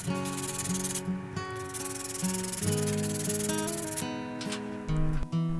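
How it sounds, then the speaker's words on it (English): A jerk bait lure body being sanded on an 80 and 110 grit sander, a continuous close abrasive whirring hiss with steady tonal motor hum and small shifts in pressure. "I have shaped this thing all up, sanded it nice and smooth"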